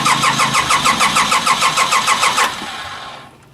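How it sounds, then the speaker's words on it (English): The engine of a John Deere 1050 tractor cranks on the starter in a fast, even, pulsing churn for about two and a half seconds, loud and close, then fades to quiet without starting. "we'll spin it around until that goes out, which is going to tell us we have oil pressure."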